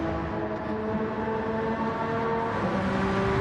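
A Monster Energy Honda NSX race car in a Gran Turismo Gr.4 race drones steadily at high revs, a continuous loud engine tone with a slight pitch shift, no voices.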